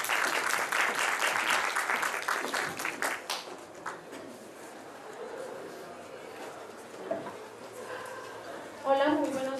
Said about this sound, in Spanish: recibamos con un fuerte aplauso a la doctora Teodora Carolina Campos Muñoz